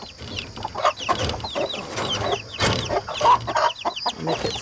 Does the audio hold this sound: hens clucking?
yes